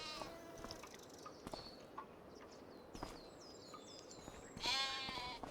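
Sheep and goats bleat in the Farming Simulator 25 video game, several separate calls spread across the moment with a louder, nearer bleat near the end, over a quiet ambient background with faint bird chirps and no speech.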